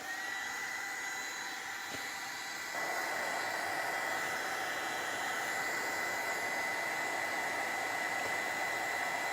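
A hair dryer blows steadily, close and loud, drying paint on a winter décor craft project, its continuous whooshing airflow lasting the whole time and growing slightly stronger partway through.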